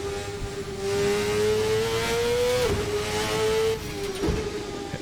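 Open-wheel Formula USA race car in the Assetto Corsa racing game, its engine holding a loud, steady high whine with two brief dips like quick gear shifts, heard alone without any talk.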